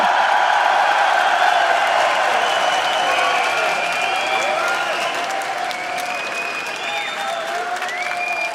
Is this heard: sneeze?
no